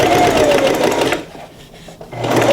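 A domestic sewing machine runs a straight stitch to gather fabric, its loud, fast mechanical whir rising close up, dropping off briefly mid-way, then picking up again.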